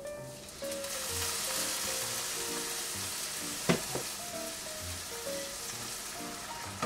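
Apple risotto simmers in a pan as a mix of apple juice, water and consommé is ladled in, giving a steady, close sizzle and bubbling with one brief clink over soft background music.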